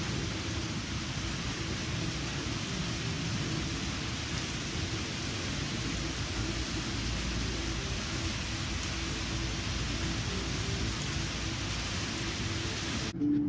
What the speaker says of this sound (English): and again with the rain.